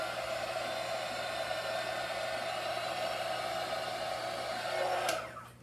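A heat tool blows steadily over a neon pink and white Dutch pour of acrylic paint, a constant close airy roar that swells briefly near the end before cutting off.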